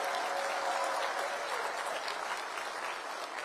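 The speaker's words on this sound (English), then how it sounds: "Let's give a big round of applause to our police." A political rally crowd claps for police officers, a dense, sustained burst of applause at full strength throughout.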